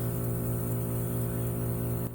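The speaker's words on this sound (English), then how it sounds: "that sound you hear is the sound of cool air in the house" A steady, droning hum of a geothermal heat pump cooling system running indoors, constant and fairly loud, with a slight drop near the end.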